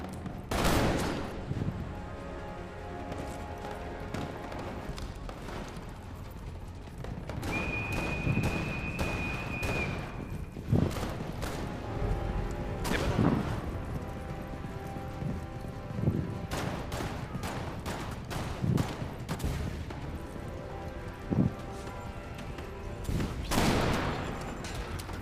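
Video game gunfire crackles in repeated sharp bursts and single shots, some loud and close, others fainter, over a steady background with a brief tone in the middle.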